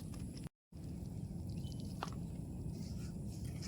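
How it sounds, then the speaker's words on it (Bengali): Raw onion being crushed by hand in a village kitchen, giving a dense, continuous wet squishing and grinding close up, with no voices. "এবার পেঁয়াজটি ছেঁচে নেব"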